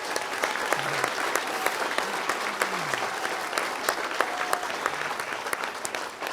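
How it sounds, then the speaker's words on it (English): A crowd applauds hurling club officials after a Tipperary intermediate hurling final between Kilsheelan Kilcash and Moyne Templetuohy. The steady, enthusiastic clapping is full of crisp individual claps and runs on for several seconds, with faint voices murmuring beneath it. "a round of applause for them."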